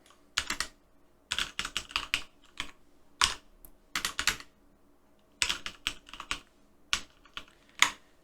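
Quiet, close computer keyboard typing while filling in form fields, in short irregular bursts of keystrokes separated by brief pauses.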